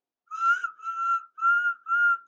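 A tonal whistle sounds four times in even, sustained blasts with short gaps between, clear and alone, standing in for steam engine Henry's whistle.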